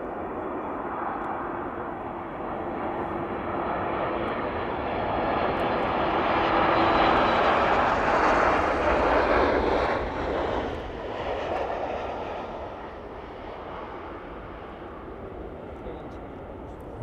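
Ryanair airliner touching down on runway 09, a broad jet roar that swells to a peak midway and then slowly fades as the aircraft rolls away, heard at a distance.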